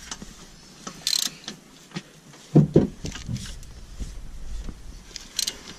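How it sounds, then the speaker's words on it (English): A 3/8 ratchet tightening front brake hardware on a 2013 Dodge Challenger R/T, with short clicking bursts and a few sharper metallic ratchet strokes, close by in a quiet workshop. "You just want to get them as tight as you can with a 3/8 ratchet."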